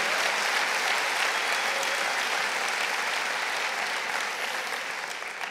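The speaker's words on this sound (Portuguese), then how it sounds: "Pode aplaudir." A church congregation applauding during a televised Brazilian worship service, a sustained, even roar of many hands clapping heard at a moderate distance and slowly easing toward the end.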